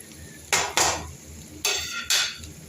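A spoon scraping and stirring chili masala powder into an egg curry mixture in a metal pan, four loud separate scraping strokes in two pairs with short pauses between, close by, no talking.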